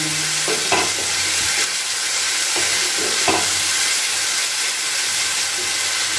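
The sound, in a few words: stirring and sautéing spice masala with cauliflower and egg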